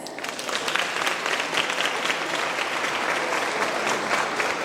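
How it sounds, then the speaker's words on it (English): Audience at a career expo clapping hands together, a lively burst of many claps rising quickly and continuing steadily with crisp individual hits audible through the crowd. "Can we clap hands?"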